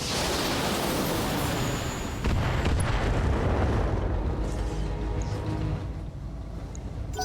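Mech weapons firing in the video game BattleTech, a sustained dense roar of blasts and booms that swells midway and stays loud throughout, no speech over it.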